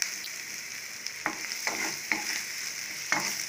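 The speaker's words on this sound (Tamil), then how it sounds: "இப்போ வந்து இந்த வெங்காயம் நல்லா டீப் ஃப்ரை ஆகிற மாதிரி முறுமுறுன்னு அந்த மாதிரி அந்தளவுக்கு ஆகிடணும்" Onions deep frying in oil over a high flame, a steady close hiss with a few stirring scrapes and clinks, no voices.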